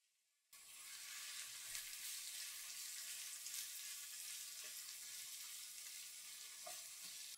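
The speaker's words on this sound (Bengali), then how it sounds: "পেঁয়াজগুলো নরম হয়ে আসা পর্যন্ত এগুলোকে একটু ভেজে নিলাম" Chopped onions sizzle steadily in hot oil with spices for a layer chicken curry, a dense, even frying hiss that starts abruptly after a brief silence and continues close and loud with faint stirring clinks.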